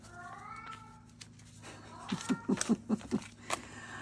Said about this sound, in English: So my cat, the reason why he's meowing is because my husband's right outside the window